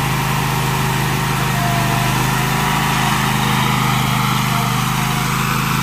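A riding lawn mower runs steadily while mowing a four-acre property, its engine holding a loud, constant drone throughout with no pauses.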